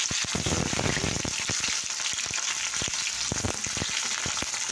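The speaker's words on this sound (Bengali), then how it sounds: "এই দেখো করলা ভাজা হচ্ছে" Bitter gourd (karela) frying in a pan, a loud continuous sizzle of hot oil with frequent sharp crackles and pops, heard up close and alone without any talk.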